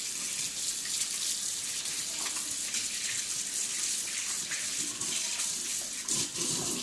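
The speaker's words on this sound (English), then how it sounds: "Get soap, hot water, and then you just wash your hands." A hot water tap runs steadily into a sink while hands are washed, a continuous close hiss and splash with small shifts in the flow.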